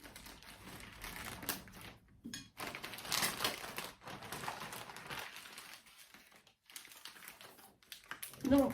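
A small knife from Action slicing open a Vinted parcel, with crinkly plastic rustling and crumpling in close, uneven bursts and short pauses.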